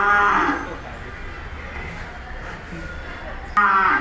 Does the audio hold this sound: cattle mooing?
yes